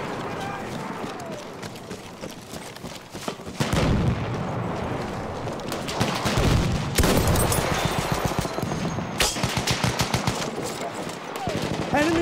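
Machine gun fire in Battlefield 1 rattles in dense, rapid bursts amid explosions and battlefield clatter, loud and close, continuing through most of the span.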